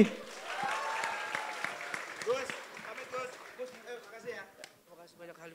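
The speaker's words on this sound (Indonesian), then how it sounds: "Boleh tepuk tangan sekali lagi." Applause and cheering from a crowd at a political rally in Bandung, a dense burst of clapping that slowly thins out, with voices calling out over it near the end.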